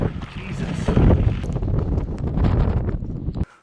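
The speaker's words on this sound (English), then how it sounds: "Windy now." Strong gusting wind buffets the microphone on a Swanpool beach in Cornwall, a loud continuous low roar that swells and eases before cutting off abruptly.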